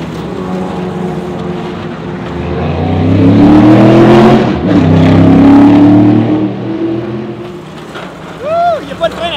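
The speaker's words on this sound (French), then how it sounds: "je vais mettre la caméra à terre, puis je vais faire des donuts, vous allez voir ça a l'air de quoi" Small brakeless vehicle doing donuts, passing close to a camera on the ground: a loud engine whose revs climb and swell, dip briefly, then surge again before fading, with a few faint whistling tones at the end.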